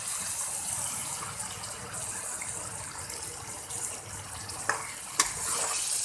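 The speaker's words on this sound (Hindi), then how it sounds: "थोड़ा सा और इसमें पानी का छींटा लगाकर इसे फ्राई करूंगी।" Potatoes frying with spices in a pan after a splash of water, a steady close sizzle and hiss with a few stirring scrapes and clinks, and no talking.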